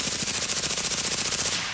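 Full-auto machine gun firing a steady, very rapid stream of shots in one continuous burst, loud and close, ending with a brief tail.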